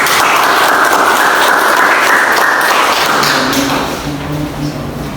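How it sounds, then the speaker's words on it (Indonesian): Audience applause at a teaching presentation, loud, steady clapping from a room of listeners that tapers off near the end, with a faint tone under the fading claps. "beri tepuk tangan"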